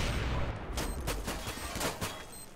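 Rapid pistol shots in the shooter game CS:GO crack out in a quick irregular string, loud and close over a busy game background.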